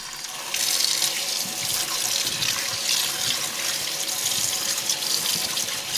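Running tap water pours steadily into a sink while menudo tripe is rinsed and moved around beneath it for Mexican menudo blanco, a continuous close, even rush with no talking.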